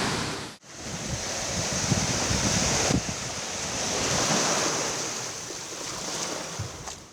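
Sea surf rolls onto a winter beach in Odesa as a steady, broad wash of breaking waves, mixed with gusty wind buffeting the microphone and no voices.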